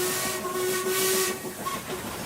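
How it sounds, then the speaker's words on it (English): A steam engine whistle blows one sustained, steady tone over a constant hissing rush of steam, loud and close, trailing off into a short second blast near the end. "Of course, it was swallowed by the sound of Murdoch's own whistle."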